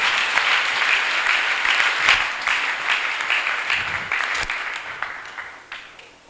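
A church congregation claps hands after a testimony, a steady wash of applause with a few sharper claps standing out, fading slightly toward the end.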